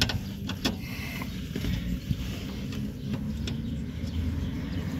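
Metallic ratcheting and mechanical clicks while a bolt is tightened on the rear axle of a Pride car, close and steady over a few seconds with no talking.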